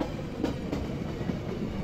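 A WDG4 diesel locomotive hauling an express in an Indian train simulator game gives a steady low rumble of rolling stock, with faint rhythmic wheel clatter throughout and no one talking.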